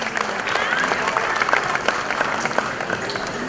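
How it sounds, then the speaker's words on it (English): An audience applauds at a 75th Independence Day award ceremony as an award is presented, with a dense, sustained clapping from a large crowd that stays steady throughout. "Please keep clapping."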